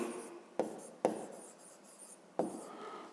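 Pen writing arithmetic on paper for a fifth-grade math exercise: scratchy strokes with several sharp taps as the pen meets the page, close and alone, with no talk.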